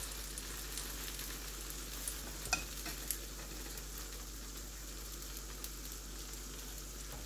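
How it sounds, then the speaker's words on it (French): Lentil dosa batter frying on a hot pan, giving a steady close sizzle with a few faint scrape ticks from a spatule, no one speaking. "Je le fais bien griller pour que les lentilles cuisent"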